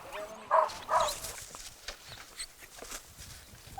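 Hungry dogs on an island jostle and bark, with two louder barks early on, then scattered yips, scuffling and footsteps at mid distance, with no clear talk over them.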